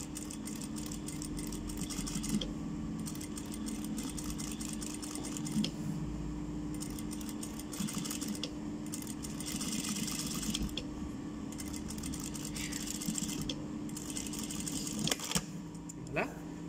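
A sewing machine stitching fabric, a steady close mechanical hum with a rapid needle clatter running for the whole stretch, pausing briefly a few times.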